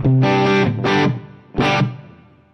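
Three chords on a heavily distorted electric guitar through a Marshall-style amp model with plate reverb, each ringing out with a lingering reverb tail between strums.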